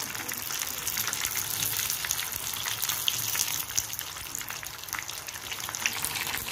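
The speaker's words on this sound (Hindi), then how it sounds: "अब हम समोसों को फ्राई कर लेंगे, एक एक करके इसमें डालते जाएंगे।" Yogurt samosas deep-frying in hot oil, giving a continuous bright crackling sizzle at moderate loudness that stays steady throughout, with no talk.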